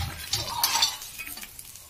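Coconut, fox nuts and raisins tumble into a pan of crispy poha chiwda namkeen mix, giving a short burst of dry rustling and light clinking that is stirred through, close and fairly loud, then fades to scattered small crackles.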